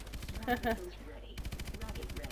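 Rapid chain gun bursts from Call of Duty Advanced Warfare, dense repeated shots in two runs split by a short pause, loud and close, with a brief voice cutting in.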